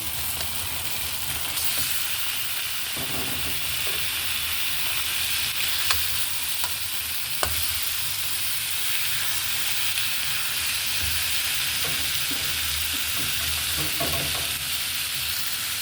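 Chicken pieces sizzle loudly in a pan of crushed tomatoes, a steady bright frying hiss with occasional stirring clatter and no talk.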